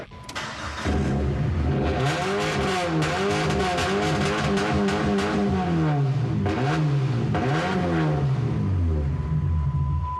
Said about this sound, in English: The Cruiser's motor and the chipper engine will roar together in sweet monster harmony.